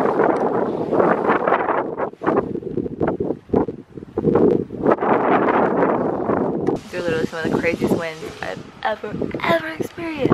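Strong Patagonian wind blowing at night, a loud continuous roar rolling through a tent campsite, with gusts swelling and easing and a person talking over it toward the end.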